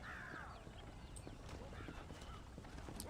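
Horse hooves clip-clop in the Red Dead Redemption PC game, a steady close series of thudding steps over outdoor ambience with a crow-like caw in the background.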